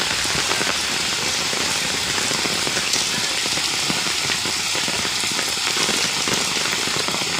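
Heavy overnight rain pours down without a break, a loud, dense, even roar of drops beating on surfaces close by, with no voices.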